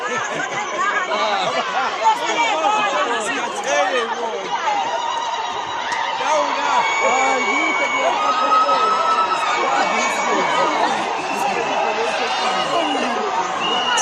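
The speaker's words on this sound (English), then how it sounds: "the crowd has incredibly just gone up in numbers as they joined the march" A large crowd of marchers on Murchison Street in Ladysmith, a dense, steady wash of chatter and many overlapping voices that holds at one level throughout, with no single voice standing out.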